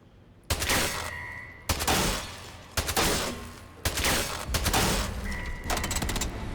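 SMG fire from the video game Atomfall: several loud, close bursts of rapid shots in uneven rhythm, each trailing off before the next volley, with no talk.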